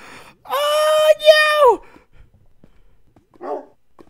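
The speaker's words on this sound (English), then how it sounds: "Replacement puppy." A puppy in the Minecraft video game lets out a loud, drawn-out yelping bark followed by a second whining call, then quiet and a faint short sound near the end.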